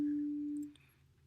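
A single pure sine-wave tone, a steady unwavering pitch held clearly and alone for about half a second before fading out, with near silence after.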